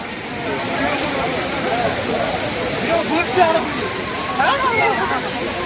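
The Courtallam waterfall roars as a steady, dense rush of falling water, with people bathing under the falls amid faint voices and splashes.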